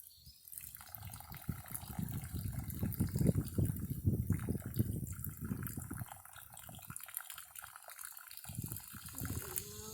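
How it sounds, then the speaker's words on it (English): Water sample forced from a syringe through a filter to rinse it, a continuous close liquid gushing and splashing with sputtering bursts over the full stretch, no talk. "we use that whole syringe of sample to rinse our filter"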